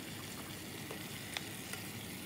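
Sliced courgettes tipped into a pan already frying smoky bacon lardons, giving a steady, fairly quiet sizzle with a couple of faint clinks on top.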